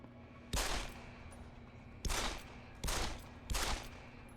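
Automated turret in Deus Ex: Human Revolution firing four loud, sharp bursts at a steady pace, each about a third of a second long, separated by short quieter gaps.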